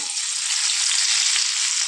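Steady, loud sizzling of crushed garlic cloves frying in hot oil, a continuous crackling hiss with no voices.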